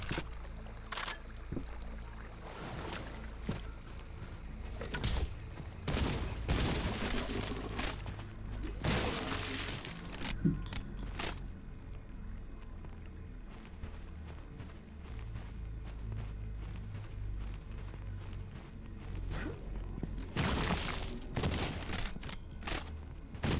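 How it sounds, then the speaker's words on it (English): A shotgun fired at zombies in a video game: sharp, loud blasts recur at irregular intervals, some in quick pairs and others spaced seconds apart, over a low continuous background rumble. "killing zombies with shotgun"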